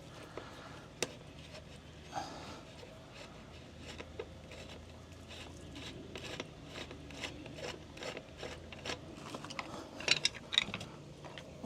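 Bolts being undone on a swimming pool sand filter, scattered metallic clicks, ratcheting and small knocks at close range, irregular and fairly quiet.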